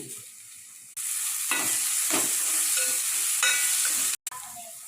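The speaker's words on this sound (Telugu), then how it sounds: "ఉల్లిపాయలు బాగా ఫ్రై అయ్యాక అల్లం వెల్లిపాయ పేస్ట్, కొంచెం కరివేపాకు వేసుకోండి." Onions fry in a pan with ginger garlic paste and curry leaves added, giving a steady close sizzle with a few stirring scrapes and a brief cutout near the end.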